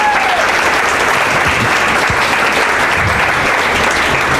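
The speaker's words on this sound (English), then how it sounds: "so please give Joanne a round of applause." Sustained, loud applause from an audience at an athletic hall of fame induction ceremony, dense steady clapping filling the room throughout with no voices rising above it.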